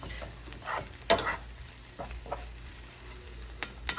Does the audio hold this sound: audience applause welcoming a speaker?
no